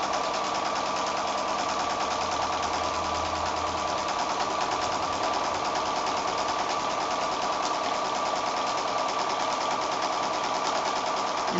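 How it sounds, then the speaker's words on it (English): A sewing machine runs steadily and continuously, stitching a quilt foundation piece with a fast, even mechanical chatter, close and unbroken throughout without speech. "to sew along that diagonal line there"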